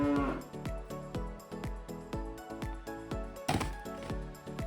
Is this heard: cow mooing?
yes